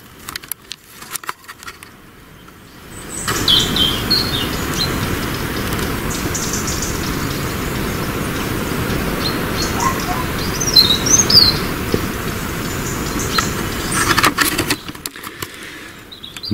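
Small birds chirp and tweet steadily on Elba island on a mild December morning, scattered high calls over a constant broad outdoor hiss, with a brief louder flurry midway.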